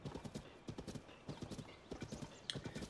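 Horse hooves clip-clop in a steady trotting rhythm in Zelda: Tears of the Kingdom, close and continuous, with light game sounds in the background.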